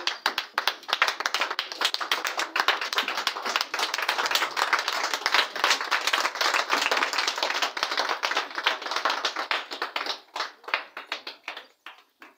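A church congregation claps together to acclaim Jesus, with steady, sustained applause filling the room for about ten seconds before thinning out into scattered claps.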